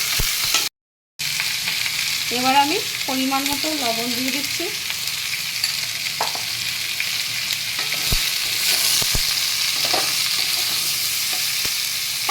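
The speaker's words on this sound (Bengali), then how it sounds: "এবার একটু ঝিঙেগুলো দিয়ে ভাজা ভাজা করে নেব।" Ridge gourd and potato pieces frying in a pan for a Bengali jhinge aloo posto, a constant close sizzle with occasional stirring scrapes while someone speaks briefly over it.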